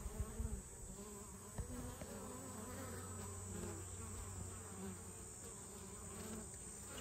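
Honey bees hum busily at a hive entrance on a late-August day while bringing in pollen, a steady close buzzing drone of many insects with a few louder passes near the start.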